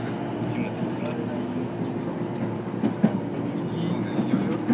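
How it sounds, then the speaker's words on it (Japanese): A JR Keihin-Tohoku Line local train bound for Omiya runs steadily with a low rumble and faint rhythmic wheel clatter on the rails, a continuous cabin drone with occasional clicks, and voices murmuring under it. "この電車は京浜東北線各駅停車大宮行きです。"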